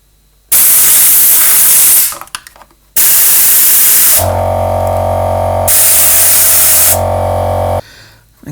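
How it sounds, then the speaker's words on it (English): Compressed air blasting dust out of the pots on a Marshall 4203 amplifier: loud sustained hissing bursts broken by short pauses, a strong hum running underneath the later bursts. "I'm just going to blow the dust out of them. This is going to be really noisy"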